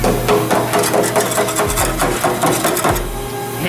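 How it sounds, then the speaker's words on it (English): Loud, rapid metallic hammer blows strike Mazda Miata car parts in a busy workshop, with dense repeated impacts over a steady mechanical hum. "Hammer fixes it all."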